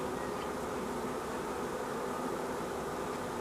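A honey bee swarm with a young queen moves into a hive, producing a steady, dense buzzing hum that stays even and continuous throughout, with no talking.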